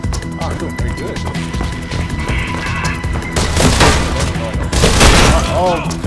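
Gunfire in Mirror's Edge, loud, rapid volleys of shots with crashes and impacts growing heavier toward the end, mixed with game sounds and a voice speaking over it.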